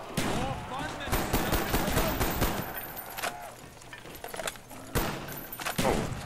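Shotgun blasts from Black Ops Zombies ring out as sharp, scattered booms amid chaotic in-game combat, several loud reports spaced irregularly with players talking over the action.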